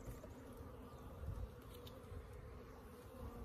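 Faint, steady buzzing of a tiny, starving honey bee colony in a hive drones quietly and continuously, with a low rumble underneath and no voices.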